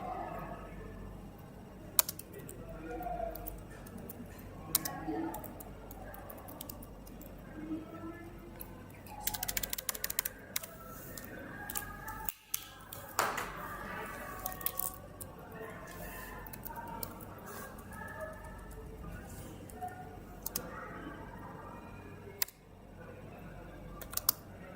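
Someone types a command on a computer keyboard, a run of quick close key clicks and taps with uneven rhythm and occasional harder keystrokes, under a faint room background.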